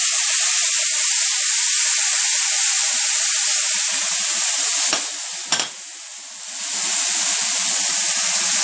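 Soy sauce and ketchup hit a hot pan of Canton chicken stir-fry rice with a loud, close, hissing sizzle, a brief clatter midway as the sizzle dips, then the steady hiss builds back up.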